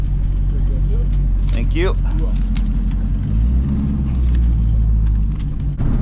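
A drag racing car with an open exhaust, suffering wheel hop, rolls at low speed back toward the staging lanes at Texas Motorplex. Its steady, close engine rumble runs throughout, with a brief spoken remark over it.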